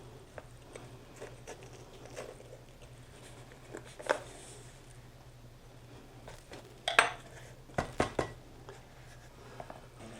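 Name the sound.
knife cutting poblano chili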